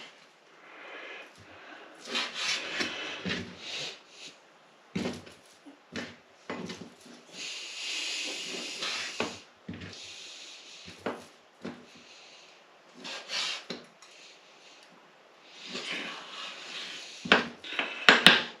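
A knife trims fat off strips of marinated jerky meat, producing short cutting and tapping strokes on a board in irregular bursts, close up, with a few handling rustles between.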